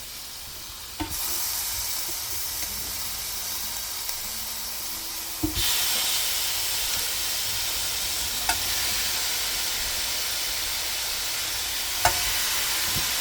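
Skewers sizzle on a grill with a steady, bright hiss that jumps louder as more go on, broken by a few soft clicks and taps, with no talking.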